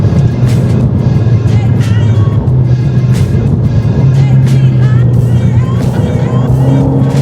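A car on a track-day lap at a race circuit roars steadily and loudly from inside the cabin, engine drone shifting pitch as it eases through gears while warming up, with faint talk beneath.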